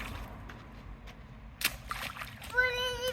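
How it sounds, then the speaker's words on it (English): Water splashing and sloshing as a dog splashes, with a voice and an adult talking nearby; a brief louder splash lands partway through, then a bright squeaky toy-like tone follows. "Splashing you with water."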